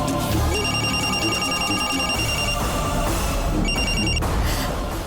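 A telephone rings at home in a Tamil drama scene, a loud trilling electronic ring repeating in two bursts over a few seconds, with no talk.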